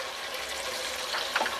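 Water runs and splashes steadily for a moment, with a brief brighter gush near the end, as a small amount is poured into a pot of korma.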